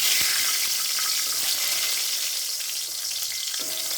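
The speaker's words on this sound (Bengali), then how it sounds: "কুমড়ো ভাজছি, কুমড়ো।" Red pumpkin pieces fry in a little oil, giving a loud, steady, close-up sizzle that crackles without a break, with no one talking over it.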